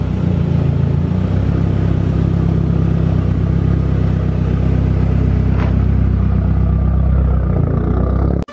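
Mazdaspeed 3 engine running as the car backs into a driveway, a loud, steady close-up hum and rumble that continues throughout and cuts off abruptly at the end.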